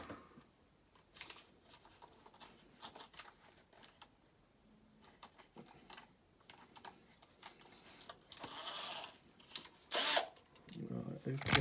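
A drill bores out a centre-punched Corgi toy Ford Transit milk van, with scattered faint clicks and handling noises first, then short, louder bursts of drilling near the end.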